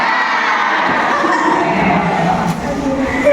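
A class of children cheers and shouts together for a classmate during a school lesson, a loud, continuous burst of young voices lasting a few seconds.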